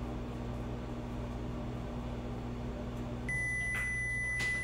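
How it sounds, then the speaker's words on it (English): A countertop microwave-style oven gives a short electronic beep partway through, followed by a steady tone over a constant low fan hum, with no talking. "so it beeped"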